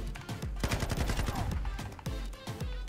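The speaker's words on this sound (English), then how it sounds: "Oh, these LMGs are nice." Light machine guns fire on the Shoot House map in Call of Duty Modern Warfare 2. The sustained, loud, rapid automatic gunfire is dense and continuous, with overlapping shots and sharp reports throughout.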